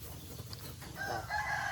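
A rooster crows at a distance on a rural charcoal-burning site in southern Laos, a faint rising call over low background rumble in the second half of the short clip.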